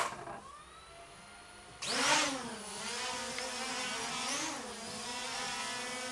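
A HONIVON XKRC B6 brushless GPS camera drone starts its motors and lifts off, a sudden loud whine that settles into a steady buzzing hum with rising and falling pitch as it hovers and moves.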